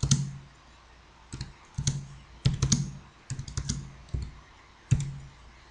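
An equation is typed on a computer keyboard in irregular bursts of crisp, close key clicks separated by short pauses, each burst a quick flurry of taps in a quiet room.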